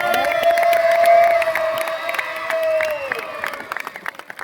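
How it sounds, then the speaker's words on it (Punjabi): A crowd at an outdoor ground claps and cheers for a three-year-old girl, a loud burst of applause and shouts over a sustained high tone that fades into scattered claps. "ਰਾਣੀਓ ਤੇਰੇ ਲਈ ਕਲੈਪਿੰਗ ਕਰਕੇ ਰੋਲਾ ਪਾ ਕੇ ਦੱਸੀ ਆਪਾਂ"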